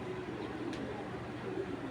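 A pair of old-breed gola pigeons coos softly and low, a faint steady murmur against quiet background hiss, with a brief higher chirp partway through.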